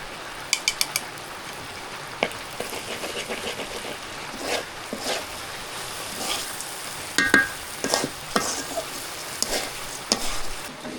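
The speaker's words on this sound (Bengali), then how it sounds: "ঘি দিয়ে আর চাউলটা ভালো করে ভাইজা নিই" Rice sizzles softly in hot ghee as a spoon scrapes and clicks against the pan in irregular stirring strokes, close and moderately loud.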